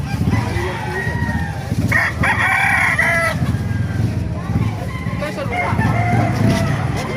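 A gamefowl rooster of the Boston Sweater breed crows repeatedly and fairly near, over steady background noise and other fowl calls, with someone talking over it.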